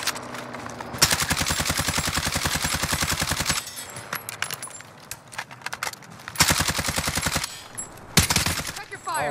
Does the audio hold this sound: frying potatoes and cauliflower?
no